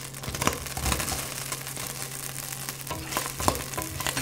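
Onions sautéing in hot pork fat in a frying pan, a soft steady sizzle with faint stirring scrapes and a few sharper clicks of the spatula, fairly quiet and close.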